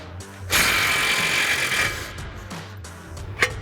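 A power tool with a 21mm socket spins a nut off the tie rod at the knuckle of an F-150, a loud whirring burst lasting about a second and a half, then quieter clinks and handling noises.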